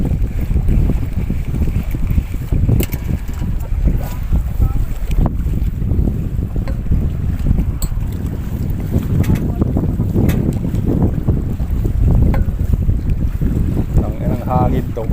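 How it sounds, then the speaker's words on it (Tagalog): Steady wind buffeting the microphone outdoors by the water at the Corniche in Abu Dhabi while fishing, a constant low rumble with gusty bursts and some faint talk underneath. "Ang hangin to."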